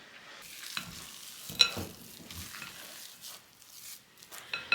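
Spices and dry ingredients are folded into pumpkin cookie dough with soft, close, irregular scrapes and squishes of a spatula through the thick mixture, with no talking.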